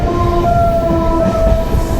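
A train runs at speed, heard from inside a second-class carriage, as a loud steady rumble with faint high wheel squeals drifting over the constant roar.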